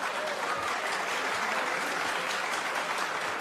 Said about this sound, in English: will you ask both sides to refrain from applauding so we can get on with this?